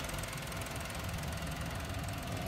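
A turbocharged Mazda Flair 4x2 idles in a steady, even drone with a faint knocking texture, heard up close and unbroken by talk.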